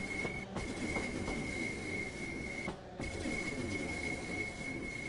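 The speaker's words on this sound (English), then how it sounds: "The sound of the rail joints" Simulated train in Train Sim World 3 running near London Bridge, a continuous rumble of wheels on track with a high squealing tone and a few rhythmic clicks over rail joints.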